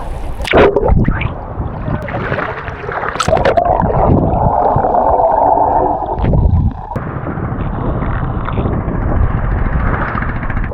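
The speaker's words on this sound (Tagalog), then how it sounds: "Medyo tumataas na yung alon, no?" Sea waves build and wash around a small boat at sea, close and loud, a rushing surge of water with buffeting wind and a few thumps against the hull.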